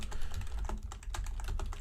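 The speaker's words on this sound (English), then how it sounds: "You guys get to hear my keyboard today since Eric isn't here." Rapid typing on a computer keyboard, close and fairly quiet, with a fast irregular run of clicky keystrokes and no speech.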